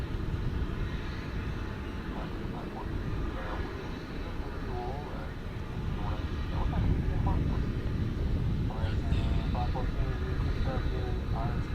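A Boeing 747 jet takes off at DFW airport as a steady, broad engine roar that holds loud throughout and swells slightly toward the end, with people chatting nearby over it.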